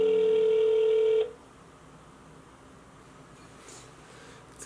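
Phone line tone during a call to a dialed number, a steady electronic tone for about a second that stops abruptly, leaving faint line hiss.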